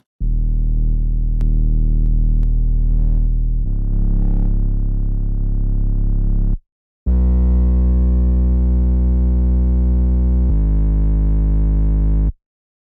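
A buzzing, distorted synth plays sustained low notes that shift pitch in blocks, breaking briefly for silence before a brighter, harsher phrase.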